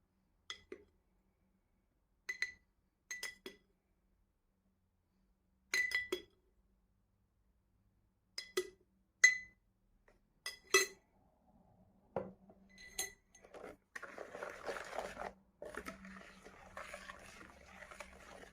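Glass bowl of cake batter with yogurt and cocoa being stirred, giving sparse light clinks and taps of a utensil against glass, then a steadier soft scraping and swishing toward the end, close and fairly quiet.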